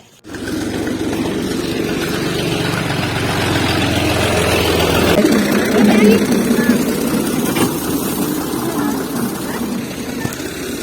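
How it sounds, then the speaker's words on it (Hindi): A tractor engine runs steadily during a tractor-trolley ride, a loud, close, low throbbing drone that shifts in tone about halfway through and holds at a level rumble, with faint voices beneath it. "ट्रैक्टर पे बैठ के जा रही है।"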